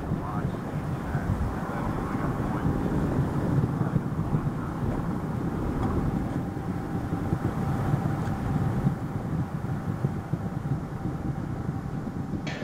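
Space shuttle Atlantis climbs on its solid rocket boosters, giving a continuous, heavy, crackling roar that stays steady and dense without a break.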